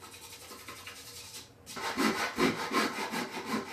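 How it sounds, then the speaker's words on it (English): A traditional Chinese knife saw cuts angled kerfs in wood. Faint scraping at first, then a steady, close run of rhythmic push-pull strokes, about two per second, with no talking. "I'm going to use a knife saw to make all of these angled cuts."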